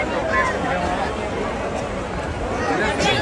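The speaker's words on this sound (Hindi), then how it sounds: "भीड़ देख रहे हो तुम लोग, सीढ़ियाँ तक पैक कर रखी है बिल्कुल ही" Dense, packed crowd on the steps at Haridwar, a steady close babble of many voices and shuffling that never lets up through the stretch.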